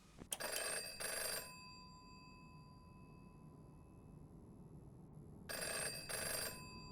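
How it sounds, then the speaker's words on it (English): An old rotary telephone rings in the horror game Five Nights at Chuck E Cheese's, two double bursts of bell clatter separated by a long quiet stretch over a faint electronic hum. "Got that little rotary phone wound up."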